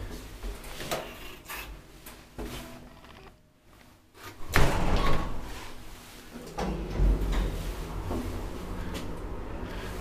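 Doors of an old Valmet traction elevator in a building at Kauppatie 13, Hyrylä, Tuusula, clunk and thud several times over a steady hum, with a louder burst of mechanical knocking midway.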